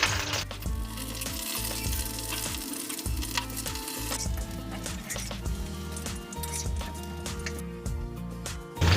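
Red chillies fry in a few spoonfuls of hot oil with a low, continuous sizzle, faint spattering crackles running under a steady background hum.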